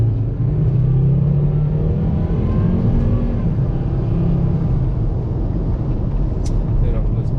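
Volvo S60R on a test drive after an ABS pump motor replacement, its engine a steady low rumble with road and tire noise throughout, fairly loud and close from inside the car.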